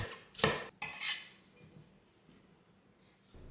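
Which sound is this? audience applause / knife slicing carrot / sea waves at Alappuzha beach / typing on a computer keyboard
knife slicing carrot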